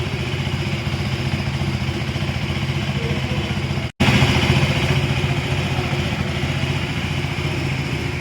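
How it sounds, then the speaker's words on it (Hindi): A KTM Duke 390 motorcycle idles steadily up close with a loud, even engine rumble that cuts out for an instant midway and then carries on unchanged. "इसकी इंजन साउंड आपको सुनाते हैं जो आप सुन रहे होंगे ऑलरेडी"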